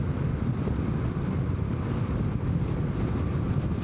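Steady, loud wind buffeting from riding a 2025 Honda NC750X motorcycle at speed, a continuous broadband roar with no break and no voices.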